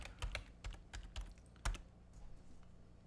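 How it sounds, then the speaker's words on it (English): Typing on a computer keyboard produces several quick, close key clicks in an uneven run, then trails off into quiet. "So if we came up here and we typed in manager"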